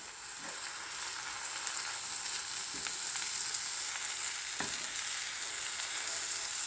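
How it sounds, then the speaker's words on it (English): Onions and garlic sizzle steadily in a hot pan, a close, constant hiss broken by a few soft scrapes of stirring, with no talk. "Now I'm going to give it a good stir."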